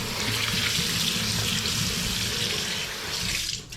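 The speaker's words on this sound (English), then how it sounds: "I'm gonna wash my pepper." A red pepper is washed under a running kitchen tap, a steady close rush of water splashing continuously throughout with no talk.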